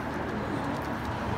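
A pigeon coos softly and low, a continuous gentle murmur close by among other birds in a loft setting.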